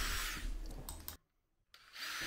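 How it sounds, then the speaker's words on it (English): A power drill bores pilot holes into wood for mounting a bike repair stand, a steady close whine that cuts out briefly to near silence before starting up again. "I can move to the bottom and drill some pilot holes"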